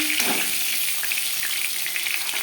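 Rohu fish head sizzles steadily in hot oil, a dense, close crackling hiss with small spits and pops throughout, no voices.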